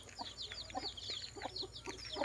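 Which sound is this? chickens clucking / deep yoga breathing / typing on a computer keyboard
chickens clucking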